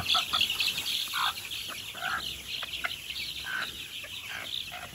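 Hens feed on watermelon, giving off a run of close, repeated short clucks and murmurs over a quiet background.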